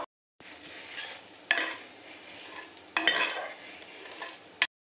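Tomatoes sauté in a little oil in a pressure pan, a broad crackling sizzle broken by three louder bursts as the pieces are stirred, with a sudden cutoff at the end.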